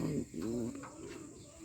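A pigeon cooing close by in a tractor workshop, low soft throaty notes repeated in a short rolling phrase over steady background noise.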